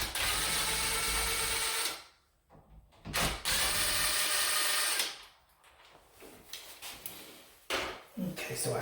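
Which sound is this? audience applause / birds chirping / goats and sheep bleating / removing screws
removing screws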